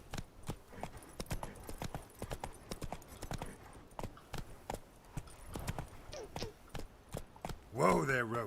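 Roach, the horse in The Witcher 3, gallops with rapid, crisp rhythmic hoofbeats, then gives a short whinny near the end; a voice speaks faintly beneath.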